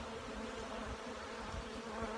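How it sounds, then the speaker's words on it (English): Honey bees in full flight at a honey farm on a cool spring day fill the air with a dense, steady buzzing hum, close and continuous throughout. "The bees are up and they are in full flight."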